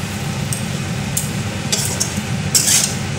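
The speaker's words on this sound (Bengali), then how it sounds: "চলো এবার এটা নাড়তে থাকি, নেড়ে এবার ঢেকে দেবো।" Chicken kasha is stirred in a pot, giving soft scraping and a few clinks of a spoon against the metal, then a lid lands with a brief clatter near the end.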